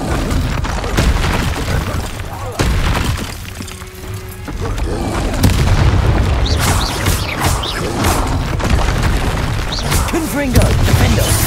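Confringo explosion spells cast in the Hogwarts Legacy video game land as repeated sharp blasts and crackling impacts over continuous combat noise, with brief whooshing sweeps between hits.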